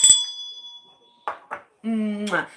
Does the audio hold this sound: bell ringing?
yes